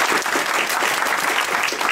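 An audience at a physics outreach show applauds, a dense, steady burst of clapping that fills the short moment without any voices over it.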